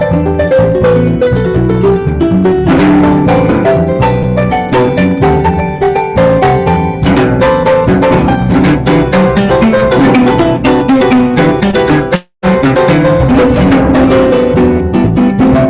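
Harp played in a busy, rhythmic style, with plucked bass lines and bright melodic runs over chords, loud and continuous apart from one brief break near the end, with no talking.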